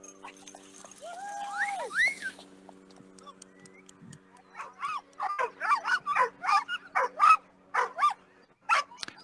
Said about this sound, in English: Number 12, Nikki Seo is underway with his 10 dogs.